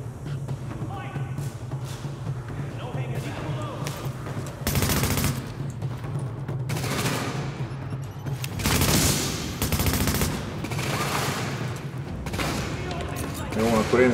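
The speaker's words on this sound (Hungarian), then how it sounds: "Nagyon nagy a lövöldözés." Heavy, sustained gunfire in The Division with rapid automatic bursts and booming blasts, continuous and loud, with voices faintly underneath.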